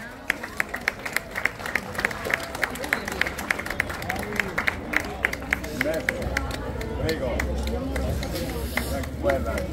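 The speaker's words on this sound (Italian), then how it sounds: "Un applauso." Crowd applause at an outdoor cycling race award ceremony, rhythmic clapping that turns into a continuous patter, with lots of chatter and babble around it.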